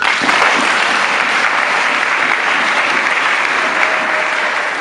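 A church congregation claps together in a dense, loud, steady round of applause that carries on throughout without a break.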